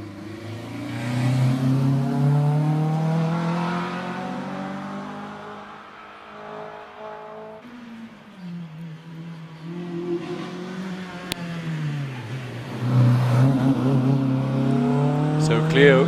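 Racing cars climb the Prescott hill climb course one after another, engines revving hard and changing pitch through the corners, loud and close, with a commentator talking over them throughout.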